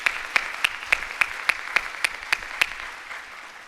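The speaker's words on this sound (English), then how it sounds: "Would you welcome them tonight and thank them and with a hand clap of appreciation?" Audience at a fatherhood tribute evening gives a hand clap of appreciation to a string group: a series of about ten evenly spaced, distinct claps, close and moderately loud, slowing and fading at the end.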